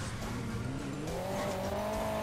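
A truck in Hill Climb Racing 2 climbing a hill, its engine a steady loud drone whose pitch rises as it pushes upward, with no talk over it.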